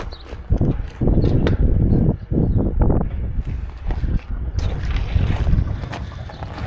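A light winter breeze buffets the microphone on a cattle farm in freezing temperatures, producing loud, uneven gusty rumbles that rise and fall, with no talk.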